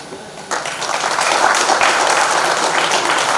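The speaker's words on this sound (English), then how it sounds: "A big applause to the guys from out of country." Applause at an alumni tribute gathering begins after a quiet half-second, then builds into steady, fairly loud crowd clapping that continues to the end.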